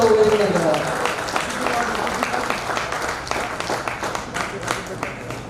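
An audience at a school alumni reunion breaks into a burst of clapping, with scattered claps continuing at a moderate level while someone speaks loudly over it.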